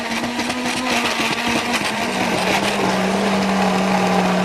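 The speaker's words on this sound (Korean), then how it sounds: "넣고 믹서에서 돌릴 때 요령이 있거든요" A blender whirs steadily at close range, its motor tone dipping slightly as the contents churn.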